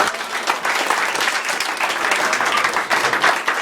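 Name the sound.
applause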